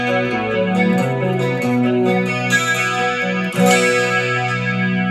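Clean electric guitar played through an MS3 patch with flange, chorus, delay and reverb, sounding as sustained, shimmering chords and notes that ring continuously, with a brighter strummed accent near the end and no talking.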